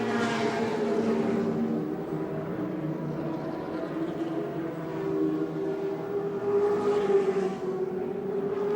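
Race cars, including a Colt and a Gemini, racing at Adelaide International Raceway, with a steady loud engine drone from several cars at once and no talk.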